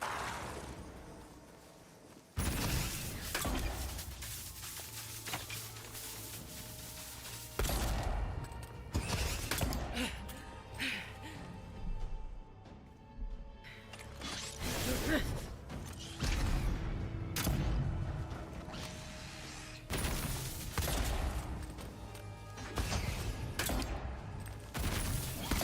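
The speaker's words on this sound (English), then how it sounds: "dual-wielding pistols comes in very, very handy in some encounters" Rapid pistol fire from dual-wielded handguns in the fantasy game Avowed, a dense run of shots that bursts out after a quiet start and keeps rattling for over twenty seconds with brief gaps, loud and close, with other battle noises mixed in.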